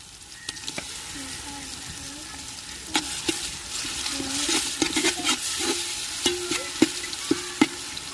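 Ground ginger-garlic paste is added to a hot pan for vegetable biryani, giving a continuous soft sizzle broken by sharp scraping stirs and clinks that grow busier toward the end.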